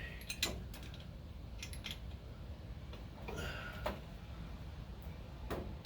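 A wrench tightens a starter relay on a 1970 Plymouth Duster with scattered close metallic clicks and ratcheting ticks over low steady rumbling, with no voices.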